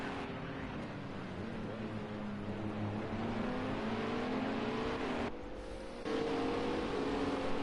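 A GT3 race car accelerating out of a corner at Long Beach, its engine note climbing steadily through the gears, with a brief dip around a shift before it pulls away loudly again.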